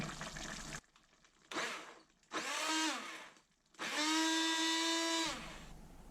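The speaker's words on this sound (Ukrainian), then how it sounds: "Вимикаю вогонь та проб'ю овочі блендером" A blender whirs in bursts as it purees cooked peas and pumpkin into a cream soup, running loud in several separate pulses with a rising whine and short pauses between them.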